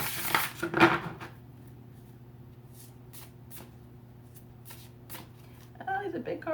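Large tarot cards shuffled by hand in a short riffling burst at the start, followed by quieter handling and a faint steady hum, with a voice speaking near the end.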